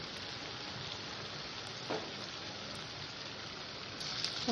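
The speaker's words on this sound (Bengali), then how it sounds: "এবার মশলাটাকে আমি সুন্দর করে কষে নেব যতক্ষণ না মশলা থেকে তেল ছাড়ছে" Spice masala with chopped tomato being fried for a crab curry, giving a steady, close sizzle that holds evenly throughout, with a brief stir or scrape near the middle and no talking.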